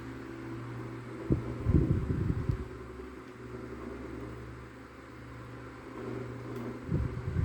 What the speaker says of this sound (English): the motor hum's gotten pretty loud, but I really like how the motor sounds